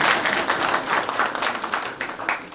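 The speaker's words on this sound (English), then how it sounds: "Clap for me." Audience at a university workshop on generative AI in higher education claps steadily after the opening declaration, a dense, even patter of many hands filling the room for a couple of seconds.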